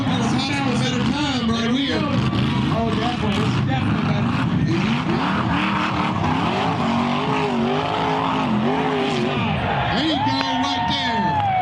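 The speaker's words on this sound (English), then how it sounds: "That's just rock bouncers doing what rock bouncers do." Rock bouncer off-road racers at King of the Hammers roar and rev over rocks with loud, shifting engine notes, while a cheering crowd and voices mix in throughout.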